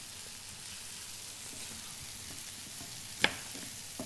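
Chopped onion frying in a pan for a stuffed pumpkin kibbeh filling, a steady soft sizzle throughout with one sharp clink near the end, fairly quiet and with no talk.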